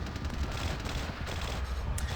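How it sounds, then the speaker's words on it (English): In the video game Vampire: The Masquerade – Bloodlines, a dense, continuous burst of gunfire rattles loudly and close for a couple of seconds, with no talking over it. "And then there's gunfire."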